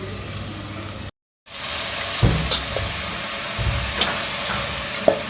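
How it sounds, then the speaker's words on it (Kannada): Washed rice tipped into a pan of browned onions for kushka rice, with a brief break and then a steady hiss and sizzle and a few soft stirring knocks. "ಇವಾಗ ನಾನು ತೊಳೆದಿಟ್ಕೊಂಡಿರೋ ಅಕ್ಕಿನ ಹಾಕ್ಕೊಳ್ತೀನಿ."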